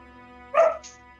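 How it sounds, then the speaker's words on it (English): A single sharp dog bark rings out close by, brief and clear, over a quiet background hum, heard during a tabletop role-playing session. "The dog agrees."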